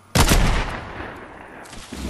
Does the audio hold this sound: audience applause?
no